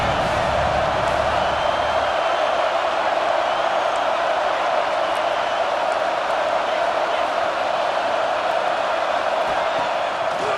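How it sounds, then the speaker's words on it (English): An Ohio State football stadium crowd roars on third down against Texas, a dense, sustained wash of cheering noise at constant loudness throughout, with a broadcast announcer talking over it. "The Buckeye crowd alive on third down."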